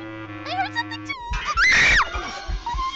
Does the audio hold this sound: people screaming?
yes